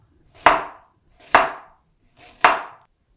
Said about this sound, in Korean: 당근을 썰어주세요.